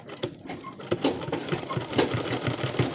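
A sewing machine stitches a welt pocket on trousers, a close, fast mechanical whir with steady needle chatter running continuously, with no talk.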